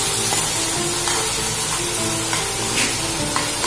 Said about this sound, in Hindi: अब हम इसमें टमाटर की प्यूरी को डालेंगे और मिक्स करेंगे